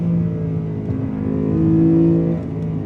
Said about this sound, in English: this engine sounds a lot like a new LC500, also a naturally aspirated V8